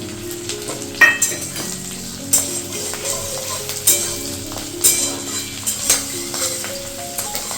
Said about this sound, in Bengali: পেঁয়াজ আর ক্যাপসিকামটা মোটামুটি ভাজা হয়ে গেছে